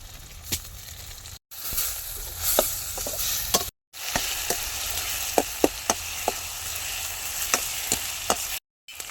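Tomatoes frying in a pan for village-style dal tadka give a steady close sizzle, dotted with sharp clicks and pops from the pan and broken by a few short silent gaps.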